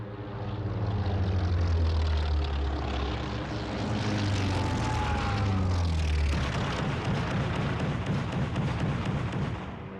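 American propeller-driven torpedo bomber attacking the Japanese fleet, a loud continuous engine drone that shifts in pitch as it passes, with rumbling noise underneath.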